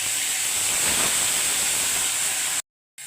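Green chilies, bay leaves, onion paste and tomato paste frying in hot oil give a steady, loud broadband sizzle and hiss that runs unbroken, then cuts off briefly near the end before resuming.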